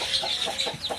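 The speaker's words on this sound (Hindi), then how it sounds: "और ये मैंने अपनी मुर्गी छोड़ दी है यहाँ पे" A hen clucks softly with her chicks on a farm, a few quick close calls in rapid succession over a brief moment.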